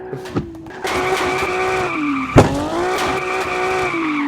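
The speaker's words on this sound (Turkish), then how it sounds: "Supra'nın sesi." A Toyota Supra engine revs loudly with a steady harmonic drone, a sharp transient midway, then climbs and settles again; tire squeal may blend in.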